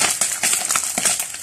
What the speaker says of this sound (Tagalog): Ay, tumatalsik yung mantika.